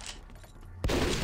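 Rifle gunfire in the video game MicroVolts Recharged: a single loud, sharp burst erupts abruptly after a quieter stretch of low background noise.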